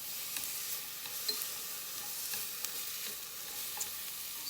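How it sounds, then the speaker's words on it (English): Onions sizzle steadily in a hot pan over medium-high heat while being stir-fried for nikujaga, with occasional soft stirring scrapes in a continuous close hiss and no speech. "Get the onions nicely stir-fried, kind of softened up just a little bit."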